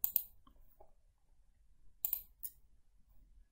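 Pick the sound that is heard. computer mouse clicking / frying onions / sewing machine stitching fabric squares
computer mouse clicking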